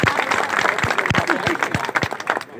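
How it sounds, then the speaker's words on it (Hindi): Audience applause breaks out at a Hindi poetry gathering, a broad wash of clapping that holds steady for a few seconds, with scattered sharper claps standing out and voices faintly mixed in. "आपकी तालियां मिल जाए तो अच्छा लगेगा।"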